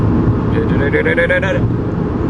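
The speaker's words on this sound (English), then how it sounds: "It's mostly the road noise you hear in this car" A car driving on a motorway gives a steady, loud roar of road noise with engine drone underneath, while someone talks over it throughout.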